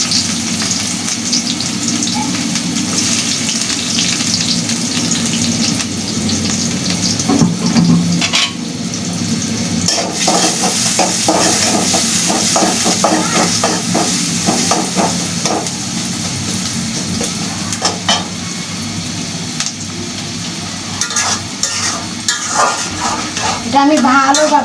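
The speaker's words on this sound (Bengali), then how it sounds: "তো তেলের জন্য আমি এখন পেঁয়াজ দিয়ে দিব।" Onions frying in oil in a pot for a Bengali fish-roe and potato curry, a steady close sizzle with scraping stir strokes running throughout, no talk over it.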